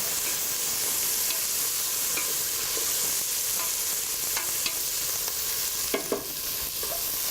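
Red pepper sizzling in a hot pan with marinated pork, a steady close hiss broken by several light stirring scrapes and clicks, no voices.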